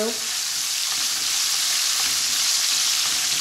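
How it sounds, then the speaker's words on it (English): Chili peppers stir-fry in a skillet with a loud, continuous close-up sizzle and hiss, steady for the whole stretch, with faint scraping of stirring underneath and no talking. "we're just going to stir fry this for, you know, a minute or 2"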